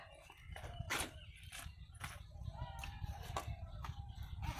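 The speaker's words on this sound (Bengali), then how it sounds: "পাশে আমাদের মুরগি ডাকছে মুরগির আওয়াজ পেয়ে যাবে" Several short clucking calls from a chicken nearby, irregularly spaced, over faint background noise and some distant voices.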